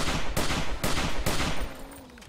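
Modded semi-automatic sniper rifle fired in the survival game 7 Days to Die, with three loud, close shots in steady succession, each followed by a short tail, and no talking.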